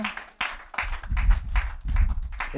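A church congregation claps in a quick, uneven rhythm during a Hindi sermon, the hand claps loud and close in bursts with brief gaps between them.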